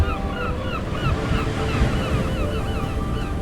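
Sea waves wash and rumble steadily with wind across the microphone, while faint bird calls chirp repeatedly above the surf.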